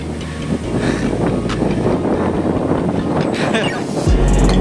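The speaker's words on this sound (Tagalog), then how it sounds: "Yung hangin pasalubong sa'yo." Strong headwind buffets the microphone of a cyclist riding uphill in a constant roar, with scattered clicks and rattles and a louder gust near the end.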